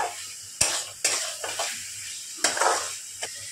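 Potol dorma (stuffed pointed gourd) stirred in a pan over a gas flame, with a few sharp spatula scrapes and knocks against the pan over a soft background sizzle.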